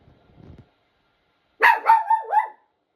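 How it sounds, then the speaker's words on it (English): A dog lets out a quick run of about four barks, close and fairly loud, after a faint low murmur in the background. "My dog, oh my gosh."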